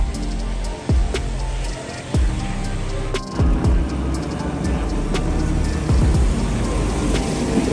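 Rain hisses steadily over a busy Skid Row street in downtown Los Angeles while cars pass and occasional low thuds sound nearby.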